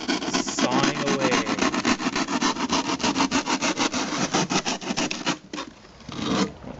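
A hand saw rasps rhythmically through wood in quick, steady back-and-forth strokes, close up, slowing and pausing briefly near the end.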